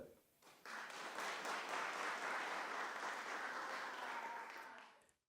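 Applause rises sharply after a quiet half-second and holds as a dense, steady wash of clapping for about four seconds, then fades out. The setting is a staged scene in an African drama series.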